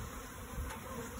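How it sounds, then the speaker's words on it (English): Honeybees buzz inside a hive box during a swarm capture, a faint, close, continuous hum with no voices. "Oh, I think there's bees in there."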